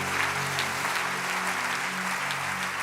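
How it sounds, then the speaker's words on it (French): A church congregation applauding and cheering for Jesus during a sermon, dense continuous clapping from many hands filling the hall, steady and fairly loud for a few seconds. "Quelqu'un peut-il acclamer le Seigneur Jésus?"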